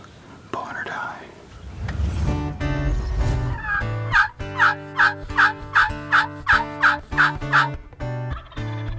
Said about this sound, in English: we can hear them gobbling in the back